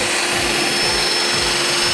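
Cordless drill spinning at around 2,500 RPM while buffing a tarnished propeller spinner with Flitz polish; a loud, steady high-speed motor whine with a rhythmic wobble, close and alone.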